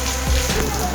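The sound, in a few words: heavy rain falling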